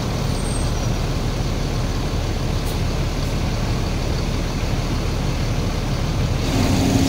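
A bus from the Sumatra Padang route pulls in, its engine rumbling loud and steady with a broad roar and a brief hiss of air near the end, nearby and without talk.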